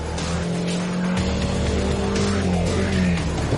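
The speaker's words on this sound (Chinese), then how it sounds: "现在我开本田 CR-V 准备开始" A 2022 Honda CR-V SUV with a CVT gearbox accelerates hard in sport mode during a braking test: a loud, steady engine drone rises in pitch, with a faint tire hiss under it and no talking.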